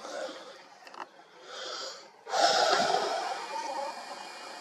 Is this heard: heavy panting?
yes